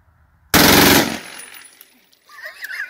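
A USMC AN/M2 Stinger machine gun is fired from the hip in a single loud, close burst of rapid shots lasting about half a second, then a fading echo, with faint chatter and movement afterward.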